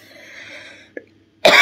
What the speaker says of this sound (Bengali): আমার ঠান্ডা লাগছে, গলা একটু পরপর চুলকি কাশি আসে।